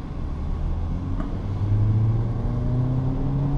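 Toyota Corolla 2019 with a 2.0 naturally aspirated engine accelerating, a steady engine drone whose pitch climbs gradually, close and continuous with no talk.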